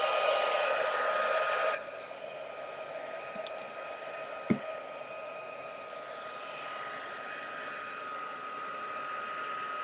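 A heat gun blows steadily while embossing powder melts on a card, a loud airy whoosh at first that drops to a softer, continuous hiss, with one brief tap midway and no talk.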